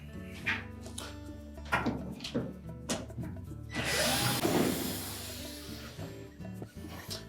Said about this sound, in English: We'll need to take out 4 screws that secure the bulkhead to the cabinet